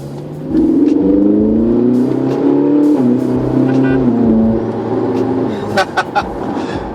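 A Ferrari 458 Italia accelerates hard, its engine rising in a loud, close rev that climbs and holds for several seconds before easing, followed by a few sharp mechanical clicks.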